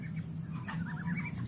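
Farm ducks being fed alongside turkeys and chickens, giving soft quacking calls over a low murmuring background, fairly quiet and close, in a short burst with no talk.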